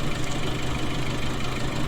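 A tractor engine runs steadily while drilling spring wheat in a field, a loud, close, continuous mid-to-low rumble heard from outside the cab, with no talking.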